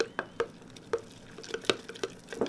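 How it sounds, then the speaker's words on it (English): A spoon stirs a sourdough starter mix of flour and a couple of glugs of water, giving soft wet clicks and slaps at an irregular rhythm, quiet and close, with no talking. "you give it a stir"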